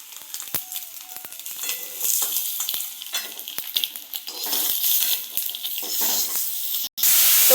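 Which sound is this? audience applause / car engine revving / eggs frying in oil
eggs frying in oil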